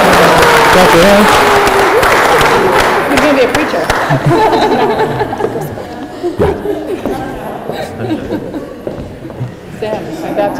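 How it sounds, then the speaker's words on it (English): Guests clap their hands at a baptism ceremony, a loud sustained round of applause mixed with chatter and some laughter that gradually thins out. "Clap your hands."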